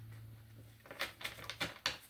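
Tarot cards riffled and shuffled during a Celtic cross reading, giving a run of soft, papery slaps and flutters in quick bursts over a low steady hum.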